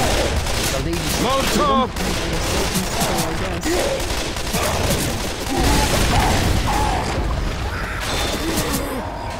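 Dense, continuous gunfire in Left 4 Dead 2 on the Swamp Fever campaign at expert realism difficulty, rapid overlapping shots and bursts loud throughout, with a shouted voice and brief callouts mixed in.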